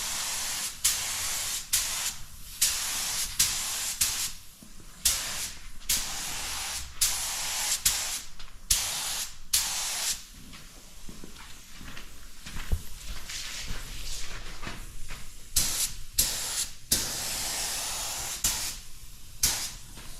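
A spray gun lays a very light tack coat of paint onto aftermarket Jeep fender flares, loud hissing bursts of spray coming in short, regular passes of a second or so, close by with no voices.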